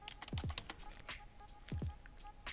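Typing on a computer keyboard, a few light scattered key taps, close and faint, with no voices.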